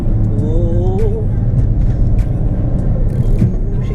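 Ford Focus ST3 diesel car engine pulling through a bend at around 3,000 rpm, a loud steady rumble with a rising whine, heard from inside the cabin with no talk.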